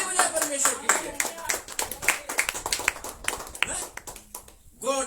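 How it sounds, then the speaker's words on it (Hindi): Hands clapping in quick, steady rhythm during a Hindi-language Christian worship service, sharp close claps repeating throughout with a voice speaking over them. "मैं ताली बजा परमेश्वर के लिए।"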